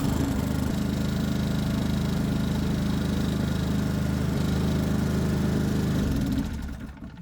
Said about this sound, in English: So as we can see, the generator is now working.